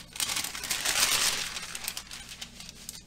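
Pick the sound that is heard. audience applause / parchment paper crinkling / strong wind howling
parchment paper crinkling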